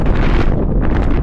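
Strong wind during a heavy snowstorm roars as a loud, continuous buffeting blast across the microphone, with no voices heard.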